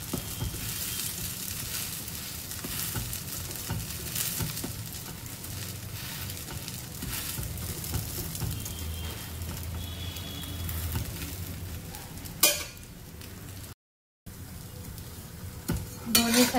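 Rava bread toasting in a pan on both sides gives a soft, steady sizzle with occasional light scraping of a utensil, fairly quiet and continuous, with a brief sharp clatter near the end and no talking.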